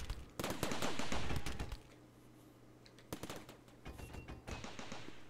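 Turret gunfire in the video game Rimworld, a dense burst of rapid shots at first, then scattered separate bursts, all without talk.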